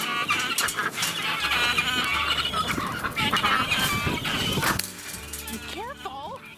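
Chickens clucking on a small farm kept alongside goats, busy overlapping clucks and calls with a person talking over them, then a few clearer rising clucks near the end.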